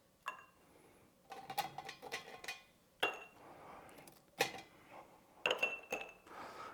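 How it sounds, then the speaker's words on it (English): Ice cubes are dropped into a standard old fashioned glass, making several sharp, close clinks and clatters at irregular intervals, with quieter rattling in between. "and then we'll add a few ice cubes to the mix."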